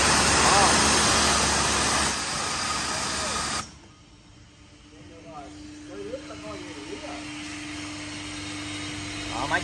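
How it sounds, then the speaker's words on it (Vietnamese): An Interpump 200 bar pressure washer pump on a 5.5 kW motor runs with a loud hiss of spraying water that suddenly cuts out, leaving a quieter steady motor hum while someone talks. "Đó, máy chạy rất là êm luôn"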